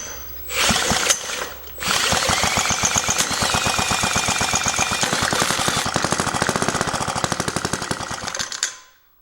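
A 1940s Lawson 2 horsepower engine with no compression and a weak battery cranks over in a fast, rattling mechanical chatter, loud and close, with a short pause and a second long burst before stopping abruptly.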